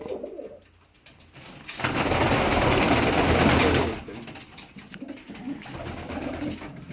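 Several champion pigeons in a village coo in soft, close, repeated bursts, with one louder busy stretch of mixed calls in the middle and quieter cooing after it; no one speaks.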